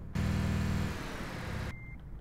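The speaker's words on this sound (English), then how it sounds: "We got the truck started." A truck idles in Euro Truck Simulator 2 with a loud, steady diesel drone and low rhythmic engine pulse that cuts off abruptly, followed by a brief high electronic beep, with no talk.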